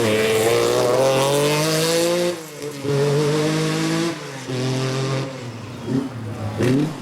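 Jeff Fielding's 6R4 rally car on a 1986 RAC Rally stage after a problem, its engine loud and close, revving up and down in repeated surges with shifting pitch.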